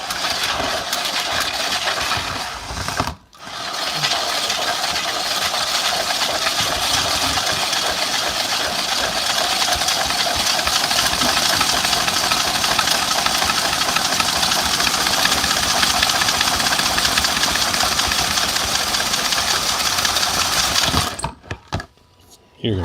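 Steady, loud whirring of 3D printer filament being wound from one spool onto another, a continuous motorized hum that cuts out briefly early on and stops near the end.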